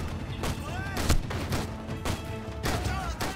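Mortar rounds fire in the Vietnam-war shooter game 7554: a series of heavy, booming blasts land roughly every half second to second, over a busy game soundscape with faint tonal whines.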